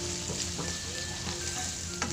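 Squash stirred and sautéing in a pan, a steady close sizzle with a few soft scraping stirs across the short stretch.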